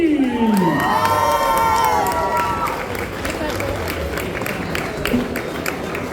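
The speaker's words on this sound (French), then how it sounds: "de faire un tonnerre d'applaudissements pour" A large crowd at a cosplay contest finale in Le Mans cheers, shouts and claps loudly for a jury member, with high children's screams early on and steady roaring applause throughout, close and sustained.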